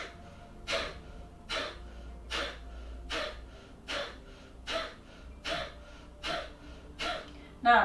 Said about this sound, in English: when you do the blowing out through the nose